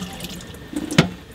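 A kitchen tap on a narrowboat runs briefly, a quiet splash of water with one sharper gurgling spurt near the end, no talking.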